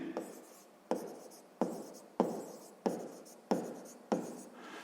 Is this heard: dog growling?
no